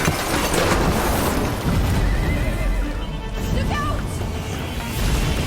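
A horse in the video game A Plague Tale: Innocence whinnies loudly over hoof clatter and heavy in-game rumble and crashing, with voices speaking at moments.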